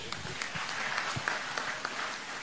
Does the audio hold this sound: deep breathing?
no